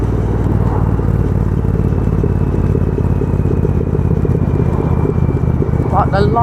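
A Triumph motorcycle engine drones loudly and steadily while riding on the road, a constant low rumble with wind buffeting and a brief whirring at the end, with a rider's voice intermittently over it.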